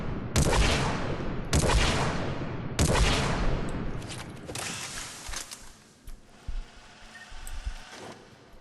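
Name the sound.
Disciple shotgun firing in video game Mass Effect 3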